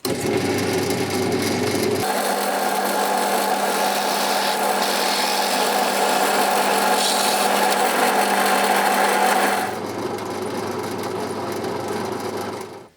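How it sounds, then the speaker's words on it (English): A steady, loud mechanical whir of a power drill with a 6 mm bit running continuously for several seconds, then dropping to a lower, rougher hum before stopping. "a 6 mil drill, push that up against there"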